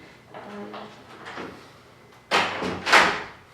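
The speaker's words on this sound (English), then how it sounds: "I'm gonna close the door" An indoor door is closed: faint shuffling movement first, then two sharp, close thuds as it shuts and latches.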